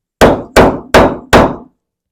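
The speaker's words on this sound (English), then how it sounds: "So I'm going to put this down and give it a few more good whacks." Four sharp hammer whacks strike layered material being pounded together, evenly spaced about a third of a second apart, close and loud with short decaying tails and silence after.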